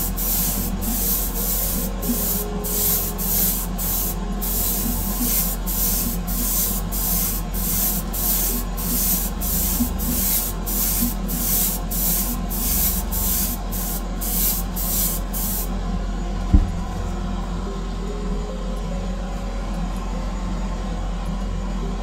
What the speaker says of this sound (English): I'm actually spraying too close to the work